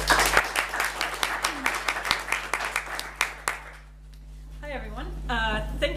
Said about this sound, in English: warm round of applause for Yulia